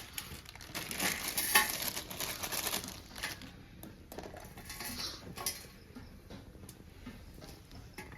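A metal spoon clinks and scrapes against a pot while Maggi noodles cook, with irregular clattering taps and crinkly rustles at close range over a steady background hiss.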